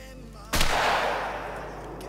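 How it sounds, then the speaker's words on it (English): A single loud shotgun slug shot in Call of the Wild booms out at close range, its report ringing into a long fading echo across open terrain. "Let's see what kind of damage it does when you shoot them up point blank in the face."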